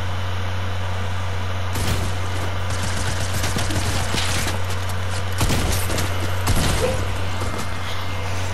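Fortnite gunfire: bursts of distant and mid-range shots crackling in rapid volleys over a constant low game hum, with louder clusters around the middle and near the end.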